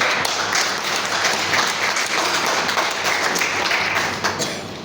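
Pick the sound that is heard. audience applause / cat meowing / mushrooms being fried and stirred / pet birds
audience applause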